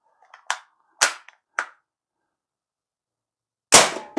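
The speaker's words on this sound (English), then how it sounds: "This is a loud gun too." A few sharp, loud pellet gun shots fired through a pop can, three cracks in quick succession, then a pause and one more powerful shot, with near silence between.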